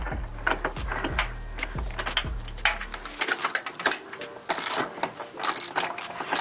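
STRAPINNO stainless steel ratchet strap tightened on a trailer, with a run of close, rhythmic ratcheting clicks for about three seconds, followed by looser metallic clatter and handling noises.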